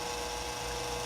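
Late-1990s custom-built tower computer switched on, giving a steady, monotonous electrical hum with a faint whine, short and unchanging.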